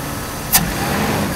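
A Mercedes-Benz W124 300CE engine runs with a steady, fairly loud mechanical hum, broken by one brief sharp click partway through; no voices are heard.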